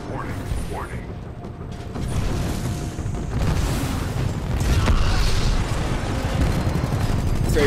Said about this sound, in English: Take that explosion.